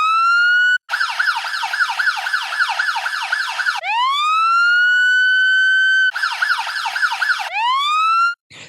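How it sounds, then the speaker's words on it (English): A police siren from an Unreal Engine 5 siren control system, loud and close, alternates a rapid warbling yelp with long rising wails, cycling through both patterns with a short gap near the start. "We can separately activate the sirens."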